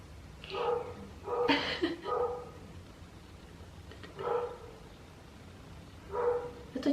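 A dog gives a few sharp, separate barks at moderate distance, spaced a second or two apart, over a quiet room background.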